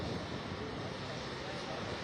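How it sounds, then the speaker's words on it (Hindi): Sukhoi Su-30 MKI fighter jet at Tezpur Air Force Station in Assam, a steady, loud broadband engine roar with wind buffeting that fills the whole moment without a break, while people talk underneath. "ये जो प्लेन जिसमें राष्ट्रपति बैठी हुई हैं वो सुखोई 30 MKI लड़ाकू विमान है"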